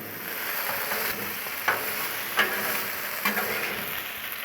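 Potatoes frying on a Blackstone griddle give a steady sizzle, broken by three or four sharp scraping strokes as a spatula stirs them, close and alone without talk.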